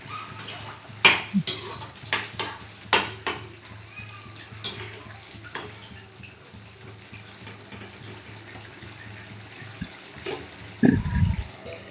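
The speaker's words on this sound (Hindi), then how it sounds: "तेल साइड से छोड़ देने के बाद अच्छे से चम्मच चलाकर बंद कर लेंगे" A spoon stirs cooking vegetables in a metal pot, giving several sharp clinks and scrapes in an uneven rhythm over a faint background hum, with a louder clatter near the end.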